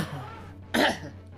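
A single short, harsh cough close to the microphone, sharp and bursting after a quiet lull, with faint game sounds in the background.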